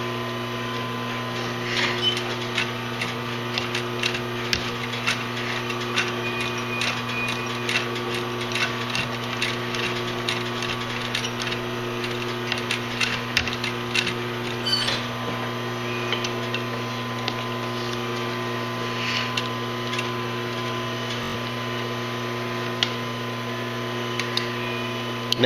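A sewing machine stitches a leather messenger bag in short runs of rapid ticking, with pauses between, over a steady background hum, close and moderately loud.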